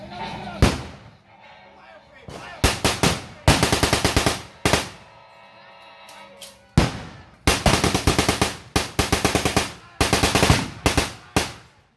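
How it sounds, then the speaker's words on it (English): German MG-44 machine gun fired at a war reenactment: repeated loud, close bursts of rapid automatic fire separated by short pauses, with sharp reports and some echo between the bursts. "The German weapon you're firing on the road is the MG-44."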